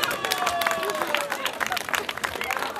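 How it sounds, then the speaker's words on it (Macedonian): A crowd applauds and cheers at the Kurajchki carnival, dense clapping running steadily throughout with scattered whistles and crowd babble mixed in. "Аплауз за Курајчкиот маж."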